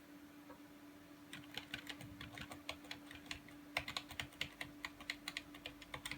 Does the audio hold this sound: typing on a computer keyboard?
yes